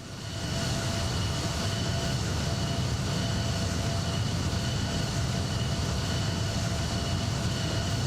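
Embraer 190 jet engines in the X-Plane 12 flight simulator throttle up for taxi, a steady loud broadband roar with a sustained whine, holding constant throughout with no talk.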